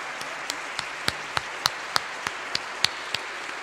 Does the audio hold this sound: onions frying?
no